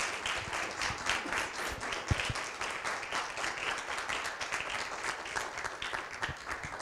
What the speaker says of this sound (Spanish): le damos el primer aplauso